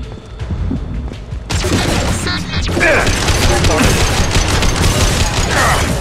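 Rapid gunfire crackles through a Mass Effect squad battle, dense overlapping bursts and impacts that grow louder and fuller after a brief quieter start, with combat voices mixed in.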